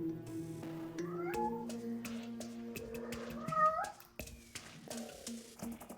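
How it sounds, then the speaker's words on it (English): A cat meows repeatedly in the background, drawn-out rising calls mixed with music and game sounds during a Terraria-style hardmode session. "There's a cat in the background, please ignore them."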